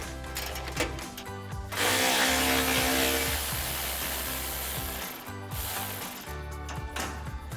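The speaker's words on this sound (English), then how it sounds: "So we're going to use our 10mm socket and remove those bolts." A ratchet with a 10mm socket loosens exhaust isolator bolts on a Ford F-150 EcoBoost, close and loud, with clicking runs broken by a longer grinding turn of the bolt.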